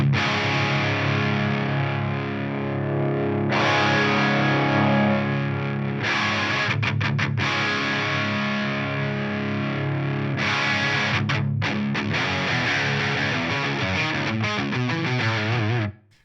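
Electric guitar through a BOSS OD-200 pedal on its X-Metal distortion setting, heavy saturated chords and chugging riffs with brief gaps, loud and continuous, then cutting off at the end with no speech.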